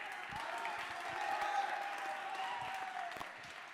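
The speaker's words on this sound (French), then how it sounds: "Applaudissements pour elles, s'il vous plaît." A faint crowd claps at a high-school trophy show, a soft continuous patter of hands with a few sharper claps, distant and low in level, with a sustained tone and murmuring voices beneath.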